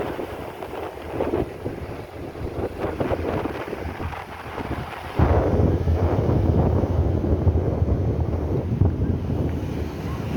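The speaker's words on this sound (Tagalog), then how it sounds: "malakas na ang alon" Heavy ocean waves crash and roll continuously on a beach in Aringay, La Union, with strong wind buffeting the microphone, the surf swelling louder halfway through and staying rough.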